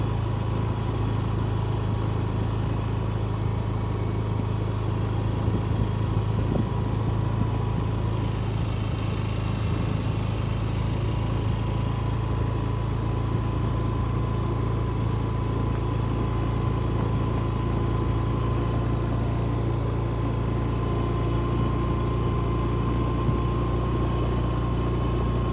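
A car drives along a finished stretch of the Padang–Sicincin toll road, heard as a steady in-cabin engine drone with a constant low hum and road rumble, unbroken throughout.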